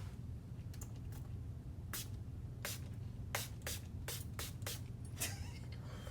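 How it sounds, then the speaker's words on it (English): A spray bottle mists toner onto a face in a series of short, sharp hisses, some fired in quick succession, close against a low background hum. "And then I'm gonna spray it on my face."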